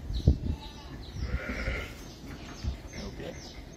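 Texel ewes bleating at close range on a farm during lambing, a few rough calls overlapping with handling noise and low rumble, no clear speech.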